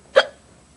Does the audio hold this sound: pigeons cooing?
no